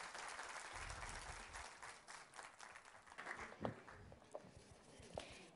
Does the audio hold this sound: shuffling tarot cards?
no